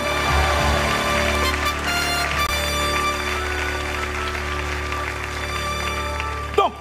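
A church congregation applauding and cheering for Jesus, a sustained loud wash of clapping and voices lasting several seconds, with a sharp knock near the end.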